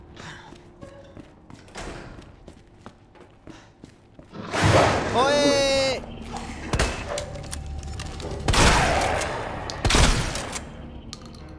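Several loud shotgun blasts ring out between stretches of quieter game noise in Resident Evil 2, each a sharp heavy boom, with a voice talking between them.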